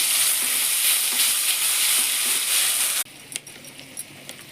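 Beans, cauliflower and carrots fry in oil in a kadai, a loud close sizzle that cuts off abruptly, followed by a few light clinks and quieter crackles.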